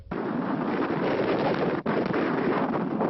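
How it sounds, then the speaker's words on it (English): Strong storm wind gusts of over 50 mph roar across a microphone in central Phoenix, kicking up dust. The roar is loud, continuous and buffeting, with a brief lull partway through. "Powered by wind gusts of more than 50 miles an hour that sent dust into the air through central Phoenix"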